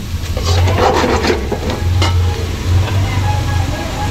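Garlic and onion sauté until browned in a pan, a steady close sizzle with repeated scraping and stirring strokes throughout, no talking.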